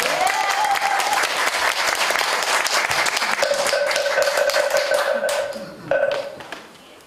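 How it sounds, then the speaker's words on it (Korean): An audience applauds at a Buddhist temple eye-opening consecration ceremony in Changwon, with dense sustained clapping that swells briefly before tapering off, while a faint tone rings underneath. "자, 박수 부탁드립니다."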